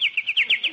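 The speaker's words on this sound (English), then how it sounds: "That sparrow must be building a nest." A sparrow chirps outdoors in the early morning, six quick, bright descending chirps in a rapid even rhythm, close and clear.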